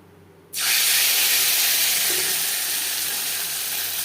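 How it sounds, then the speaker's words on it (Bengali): Cubes of paneer dropped into hot refined oil in a kadai, an abrupt loud sizzle that erupts and then holds as a steady, bright, hissing fry. "সবার প্রথমে পনির ভেজে নেব"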